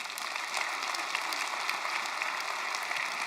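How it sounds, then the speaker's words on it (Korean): A church congregation applauds during a Korean sermon, sustained even clapping from a crowd at moderate distance, with no talking over it. "격려하면서 박수 한번 해줬으면 좋겠습니다."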